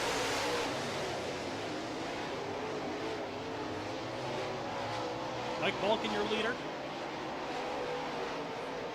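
Dirt track late model race cars race in an evening heat, a steady distant roar of engines across the field, with an announcer talking over it throughout.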